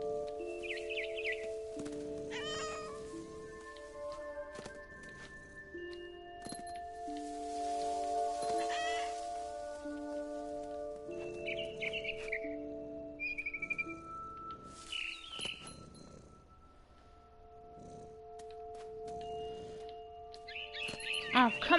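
Birds chirping and calling in the video game What Remains of Edith Finch, scattered short tweets and trills over a quiet ambient outdoor bed with rustling, fairly faint and spread across the scene.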